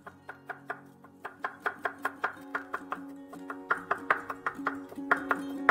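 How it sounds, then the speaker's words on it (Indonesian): Seven garlic cloves are finely sliced with a knife on a board, a close, quick run of crisp taps that speeds up toward the end with no talking. "Sementara untuk bumbunya saya iris halus 7 siung bawang putih."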